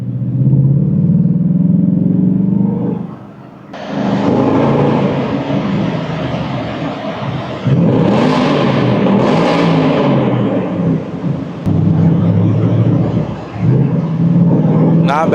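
2024 Ford Mustang with stock exhaust, valves closed, accelerating hard with a loud deep engine roar rising through gears, a brief lift between pulls, heard from inside with people talking over it.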